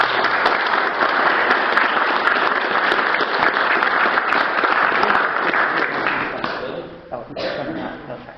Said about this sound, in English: show a great round of applause now